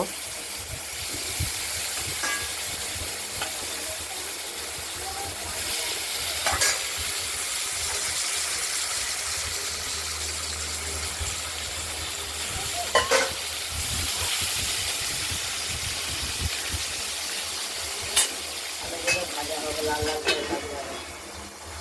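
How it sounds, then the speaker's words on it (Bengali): Potatoes frying in a wok for a katla fish curry give a steady hiss and sizzle, with occasional clinks and stirring noises, continuous and close throughout. "আলুগুলোকে ভেজে নেব।"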